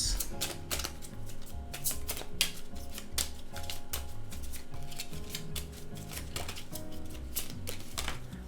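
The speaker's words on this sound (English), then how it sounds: "I'm going to try to shuffle them a bit to get one or two out." Continuous crisp, papery riffling and tapping as a deck of tarot cards is shuffled, with brisk uneven bursts of clicks over a low background hum.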